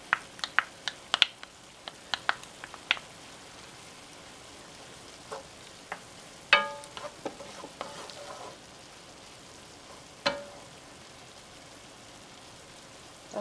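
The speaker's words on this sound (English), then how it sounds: "I'm going to add my onions and my Scotch bonnet pepper" Onions and a Scotch bonnet pepper frying in a pan of browned beef for Jamaican beef patties: quiet, scattered sizzling crackles and small pops over a soft hiss, with no talking.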